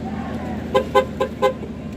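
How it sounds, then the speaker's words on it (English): Several short car horn toots sound from passing oncoming traffic at a street protest, four quick honks in a row over a steady road rumble. "You got some supporters honking, it sounds like, on the oncoming traffic wise."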